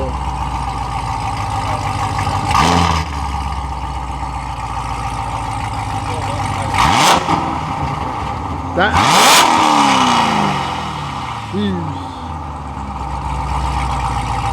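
A BMW E92 M3 V8 engine with a Borla exhaust revs sharply several times, deep exhaust roaring in bursts over a steady idle, close by with people talking around it.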